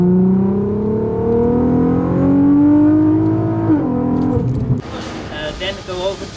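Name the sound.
tuned VW MK4 R32 turbo with custom exhaust revving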